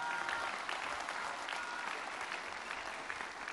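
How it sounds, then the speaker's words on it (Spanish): Crowd at a rural hospital event in Amanalco, State of Mexico, applauding migrants, a sustained, moderately distant patter of many hands clapping that holds steady and eases slightly toward the end. "Merecen un aplauso, ¿verdad?"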